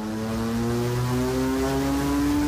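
A 2012 BMW K1600R motorcycle with a reprogrammed engine, its inline-six drone holding steady and then climbing gradually in pitch, loud and close with no voices.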